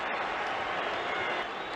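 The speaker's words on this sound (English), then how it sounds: "Listen to the roar of this crowd" A packed boxing arena crowd roars and cheers in a steady, dense wash of noise before the 1971 Ali versus Frazier fight, loud and unbroken throughout.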